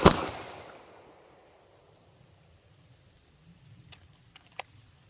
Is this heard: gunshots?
yes